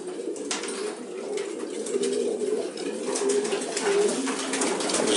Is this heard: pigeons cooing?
yes